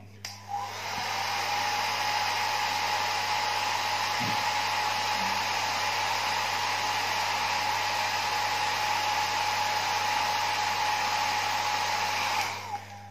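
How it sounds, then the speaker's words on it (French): A hair dryer blows steadily and loudly for over ten seconds heating a decal on a Tamiya Supra GT model, a continuous whooshing hum that cuts out near the end. "Pour bien le fixer, je vais utiliser un sèche-cheveux"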